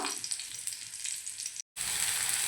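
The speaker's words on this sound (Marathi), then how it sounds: "आता साईडनं सोडं तेल सोडूया आणि मिडियम गॅसवरती एका साईडनं दोन मिनटं फ्राय करून घेऊया" Karli fish, Malvani style, sizzles steadily in oil over a medium gas flame, an even close hiss that drops out for a split second before resuming.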